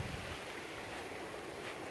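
Steady broadband rush of ocean surf washing onto a beach, with wind buffeting the microphone, continuous and close, no voices.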